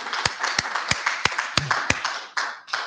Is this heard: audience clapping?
yes